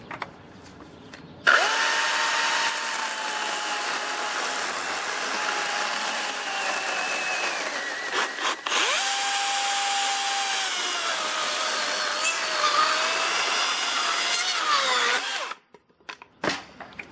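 A DeWalt 60-volt FlexVolt brushless chainsaw runs through a cut with a loud, steady motor whine that dips briefly mid-cut, then resumes and winds down at the end.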